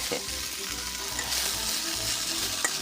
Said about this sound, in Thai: ใส่ผักลงไปเลยนะครับ ผัดเลย